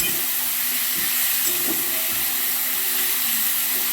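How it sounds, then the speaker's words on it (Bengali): Boiled banana flower stir-frying with chilli, salt and spices in a pan, a steady soft sizzle and hiss with a few faint scraping stirs, close and continuous. "এটা ভালো করে কষে নেব যাতে ঝাল নুনটা মোচাটার মধ্যে ঢোকে।"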